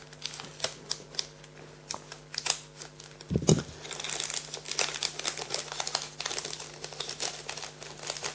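A Dragon Ball Scouter Battle card booster pack wrapper being torn and crinkled open, close and continuous, with sharp crackling bursts and one louder rip partway through.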